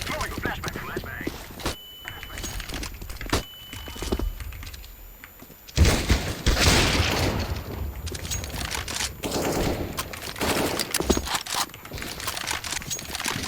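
A flashbang grenade and bursts of rapid gunfire in a team shooter video game, sharp bangs and rattling volleys near and loud, with someone talking intermittently over the action.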